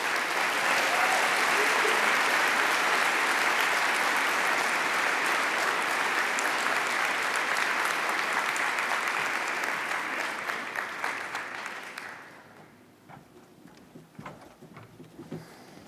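An audience at a conference keynote claps loudly and steadily for about twelve seconds in welcome before the applause thins into scattered claps and room noise.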